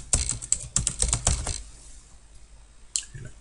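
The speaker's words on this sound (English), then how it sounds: "I'm actually going to type in the word material so we know what we're looking at." A computer keyboard clicks out one word in a quick burst of about a dozen close, crisp keystrokes, then falls quiet before one last tap.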